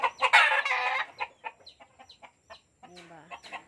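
Chickens and fighting roosters in a rural backyard: nearby clucking and raspy crowing calls in short bursts, fairly close and moderately loud.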